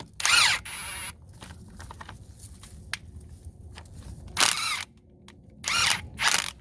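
An impact wrench set to high cracks loose old, rusty bolts in a few short, loud bursts separated by quieter pauses.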